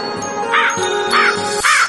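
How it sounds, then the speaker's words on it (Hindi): A crow caws three times in a harsh, nasal rhythm, each call loud and close, with a faint tinkling tone running underneath. "जाओ पता करो कि ये कौवा आखिर चाहता क्या है।"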